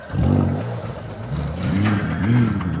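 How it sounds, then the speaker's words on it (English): Several car engines rev and roar close by at a race start, pitches rising and falling in overlapping surges, loud and continuous with no talking. "Start your engines!"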